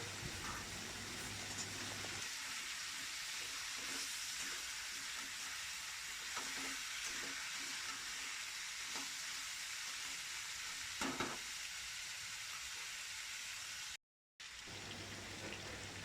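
Chopped tomatoes sizzle and fry in a pan for a homestyle Bengali chicken and potato curry, a steady faint crackle with soft stirring scrapes throughout and a brief dropout near the end.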